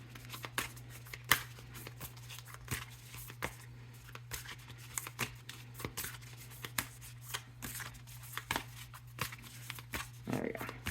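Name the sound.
shuffling tarot cards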